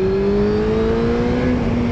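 A car engine accelerates steadily in second gear through a gentle curve, its rising tone loud and close throughout, with no talking.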